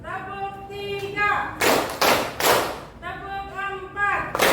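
A school class claps a counted rhythm on cue, producing a loud burst of group handclaps in the middle, with a teacher talking before and after it.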